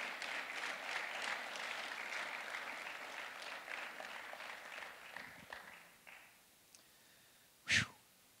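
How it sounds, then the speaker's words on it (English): A church congregation claps hands on a Sunday morning, steady moderate clapping that thins and fades out, followed by scattered shuffles and one sharp thump near the end. "Let's clap our hands this morning"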